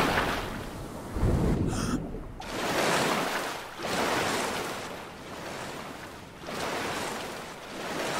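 Swimming through a river in the survival game Stranded Deep, with surging water and wave-like washes in slow swells, loud and continuous, with one louder splash early on and no talking.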